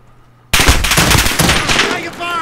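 Rapid automatic gunfire from a Call of Duty: Modern Warfare multiplayer team deathmatch on a courtyard map bursts in suddenly after a quiet start, then rattles on loud and dense for about two seconds.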